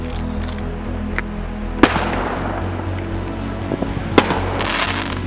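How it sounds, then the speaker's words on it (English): Fireworks burst outdoors with two sharp, loud cracks near 1.8 and 4.2 seconds, a few fainter pops between them, all over a steady low hum of background noise. "these fireworks started going off"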